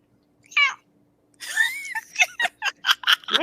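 A cat gives a short meow, then after a pause lets out a run of rapid, chirpy meows and trills, close and fairly quiet.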